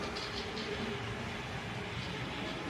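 An HO-scale model railway train runs around its track, making a quiet, steady rolling rumble with no distinct clicks or breaks.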